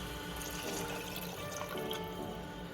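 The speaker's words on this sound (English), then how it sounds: "Now I am going to put water" Water pours steadily into a macaroni mixture for pressure-cooker pasta, a continuous close splashing and trickling that runs the full length without speech.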